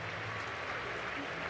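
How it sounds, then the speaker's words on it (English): Baseball crowd applauding at an Angels home game against the Mariners as the catcher gets back on his feet, a broad, steady wash of clapping and crowd noise with commentary voices running over it. "O'Hoppe on his feet, and the crowd showing their appreciation"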